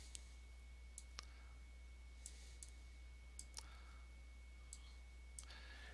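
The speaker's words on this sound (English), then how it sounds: "I'm actually hitting the Control Q and it takes me out" Soft, sparse key clicks from a computer keyboard while pressing a Control Q shortcut, isolated taps spaced about a second apart over a low steady hum.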